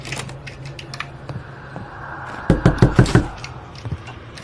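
Knocking in the horror video game Summer of 58 comes as a rapid series of about six loud, heavy knocks on a door, preceded by faint tapping and clicks in a quiet room.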